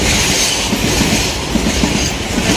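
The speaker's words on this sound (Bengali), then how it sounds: "ট্রেন আয় পড়ছে," A train rolls past close by on the rails, a loud, steady roar and rumble of wheels and wagons filling the whole moment on a windy day, with no voices.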